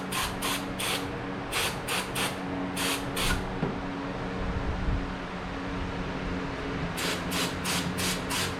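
Aerosol carburetor cleaner hisses in short bursts onto the dirty outside of a Murray small-engine carburetor: several quick sprays at the start, a pause with low workshop hum, then another rapid series of sprays near the end.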